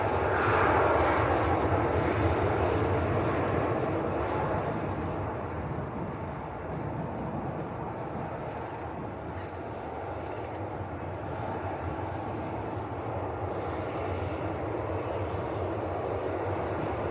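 A Boeing 737 airliner at Leeds Bradford Airport gives a steady, fairly loud jet roar that holds for the whole stretch and eases slightly after the first few seconds, with no talking.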